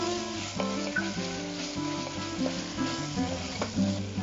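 Tomatoes, coriander powder and salt are stirred in a hot pan for Chettinad chicken biryani, with a continuous close sizzle and periodic scraping stirs over a light bed of background music.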